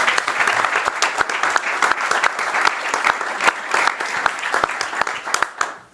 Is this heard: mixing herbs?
no